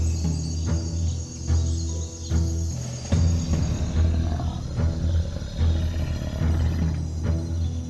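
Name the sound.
lion roaring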